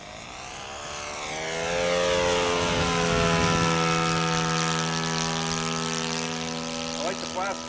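RC Cessna 182 model airplane, 50 size, flying on approach, its engine whining steadily with a sustained, shifting pitch as it passes, loud and fairly near throughout.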